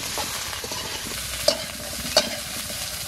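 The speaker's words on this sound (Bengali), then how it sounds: "এখন ফুলকপিটা একটু ভেজে নিচ্ছি" Cauliflower fries in hot oil in a pan, a faint steady sizzle with soft scraping stirs and two brief sharp clinks.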